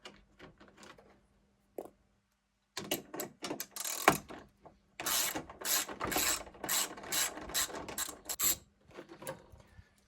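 A ratchet socket wrench clicks steadily while loosening headlight bolts on a 2015–2017 Ford F-150, close and fairly loud, in uneven runs of rapid pawl clicks with brief pauses.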